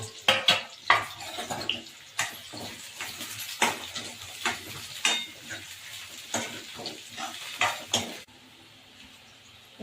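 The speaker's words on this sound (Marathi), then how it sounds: "तेल गरम झालेलं आहे, कांदा टाकून घेऊया." Chopped onion, green chilli and tomato hit hot oil in a pan for dum biryani, giving a steady sizzle broken by repeated sharp clatters of a spoon scraping and stirring, close by, until the sizzle drops quieter near the end.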